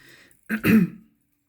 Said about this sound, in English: I'm sorry, I do clear my throat sometimes.